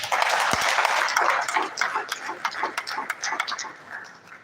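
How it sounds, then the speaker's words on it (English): Audience applause at a pharmacists' academic conference, dense clapping that is loudest at the start and then thins into scattered, uneven claps over a few seconds. "Please let us give him another round of applause."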